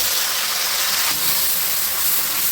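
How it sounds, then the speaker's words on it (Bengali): Cloves, cardamom and cinnamon sizzle in hot oil as a tempering for vegetarian navratan korma, a steady loud hiss of frying spice with no pause across the whole stretch. "লবঙ্গ এলাচ দারচিনি ফোড়নে দিচ্ছি"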